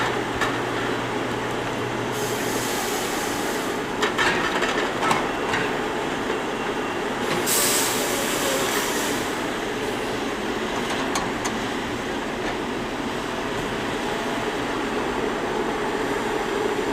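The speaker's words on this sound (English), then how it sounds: "The processor's working exactly how it's supposed to be working." Two John Deere shovel log processors handle and process trees in snowy northern Idaho, a steady loud machinery drone with hydraulic whine and occasional clanks and rattles of logs running throughout.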